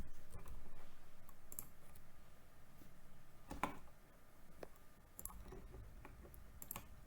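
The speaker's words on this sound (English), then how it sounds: "I'm just going to type in 64, 55, and so forth." Numbers being typed on a computer keyboard into a spreadsheet, giving scattered soft key clicks at uneven intervals over a low room hum, fairly quiet, with no talking.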